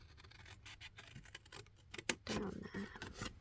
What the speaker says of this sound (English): I'm going to cut down this edge here actually